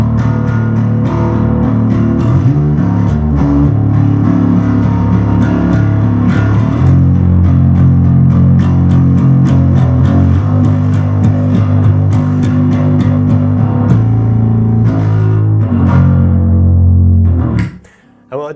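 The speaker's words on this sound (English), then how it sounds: "We've got the distortion to try and add a bit of heaviness," Bass guitar played through a distortion pedal on a heavy rock song, a loud, thick, fuzzy riff with sustained gritty low notes and a steady driving rhythm, ending abruptly near the close.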